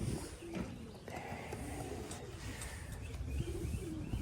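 Young weanling pigeons coo inside a loft, soft repeated murmuring calls under a constant dense background hum of the enclosure, with faint talk mixed in.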